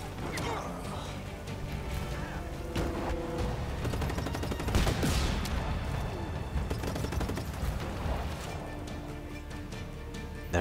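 Gunfire in the video game Just Cause 3 as soldiers are shot at, dense bursts of shots and crashes layered together at moderate loudness across the whole stretch, with some talk mixed underneath.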